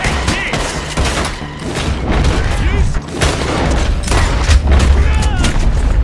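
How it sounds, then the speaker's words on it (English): A loud Red Dead Redemption 2 shootout, with repeated gunshot bursts and booming impacts cracking through the scene in a dense, continuous exchange of fire. "I didn't know this was gonna turn into a shootout"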